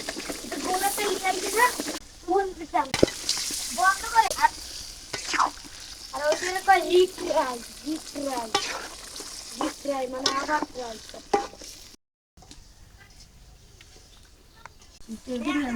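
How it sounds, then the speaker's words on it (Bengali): Free-range desi chicken cooking with turmeric and chilli powder in a pan, a steady sizzling hiss and stirring running beneath near-continuous talk, with a brief quiet gap toward the end. "বৃষ্টির মধ্যে দেশি মুরগির গোস রান্না হইতেছে"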